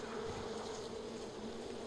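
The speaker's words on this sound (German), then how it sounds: "Das sind schon wieder Bienen?" Bees buzz steadily in the video game Far Cry 5, a continuous droning hum that holds at an even level throughout with no talk over it.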